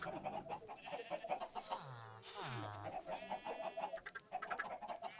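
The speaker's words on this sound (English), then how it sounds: "We need to get away from this chicken, or they're going to drive you nuts" Minecraft chickens cluck repeatedly in a quick, busy run of clucks, fairly close and moderately loud, with no talk over them.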